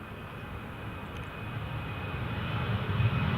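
A TUI Boeing 737-800 jet takes off from Newcastle International Airport for Palma de Mallorca, a deep engine rumble swelling steadily louder over a few seconds, with no talk.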